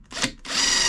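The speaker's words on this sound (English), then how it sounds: "We'll drill a little hole in there," A power drill with an 8mm wood bit bores a hole during a diesel heater install in a Ford Transit campervan, giving a short close whine that dips briefly and then settles into a steady, loud grinding drone.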